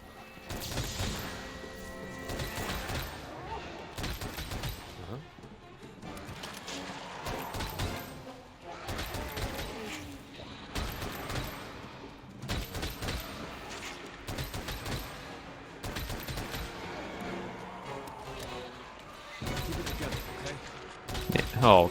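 Rapid-fire normal ammo shots in Monster Hunter World: Iceborne, quick repeated bursts of sharp cracks in regular clusters, fairly quiet overall, with a person talking over them.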